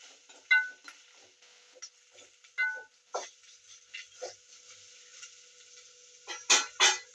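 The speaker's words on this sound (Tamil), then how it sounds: "கடுகு வெடிச்சிருச்சு." Mustard seeds pop while tempering in a pan, scattered sharp crackles and small bursts spaced irregularly over a quiet background, growing denser toward the end.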